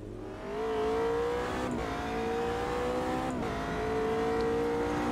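McLaren race car in Automobilista 2 revving hard, a loud sustained engine roar that climbs in pitch through the gears with two brief shift breaks, no voices over it.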